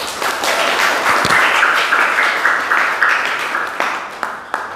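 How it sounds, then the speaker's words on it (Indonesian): An audience claps steadily for several seconds, a dense continuous applause that slowly thins toward the end, with a few sharper individual claps standing out. "Aplaus."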